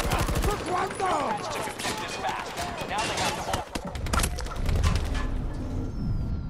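Rapid automatic gunfire in Battlefield 2042 during a Conquest match rattles in dense bursts, loud and close, with a heavier rumble of battle noise underneath and a voice talking over it.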